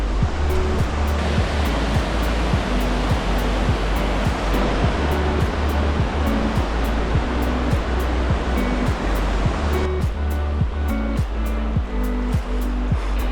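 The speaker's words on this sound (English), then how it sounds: "Holy cow, that's the river." A mountain river rushes loudly and continuously near the Tourist Creek route to Gannett Peak, Wyoming's tallest mountain, a dense, unbroken roar of whitewater with no voices.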